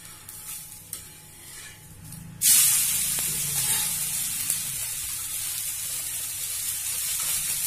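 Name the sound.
ghee sizzling on pan for tulasi dosa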